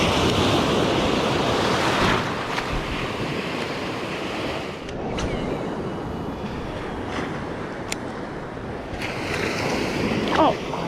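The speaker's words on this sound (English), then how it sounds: "A southeast wind and a small surf." Small ocean surf breaking steadily on a beach under a southeast wind, with a continuous wash of waves and wind buffeting the microphone throughout.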